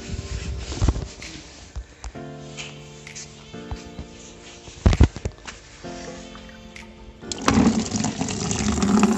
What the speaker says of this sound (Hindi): इस नलके में पानी बहुत धीरे आता है